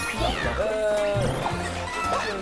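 A short, pitched cat meow from the Super Mario 3D World cat transformation, with gliding electronic tones over a continuous bed of game music and sound effects.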